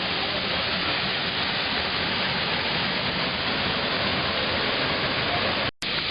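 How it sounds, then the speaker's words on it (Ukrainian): Steady, loud roar of the Düden waterfall in Turkey, heard up close at its mouth as an unbroken wash of falling water that cuts out abruptly for a split second near the end. "От зараз іменно гирло водоспаду."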